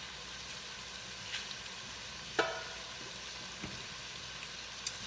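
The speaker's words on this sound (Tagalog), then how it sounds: "Habang ginigisa yung ating sibuyas." Onions sautéing in a pan give off a soft, steady sizzle that stays faint throughout, with a few light clinks and stirring taps and no voices over it.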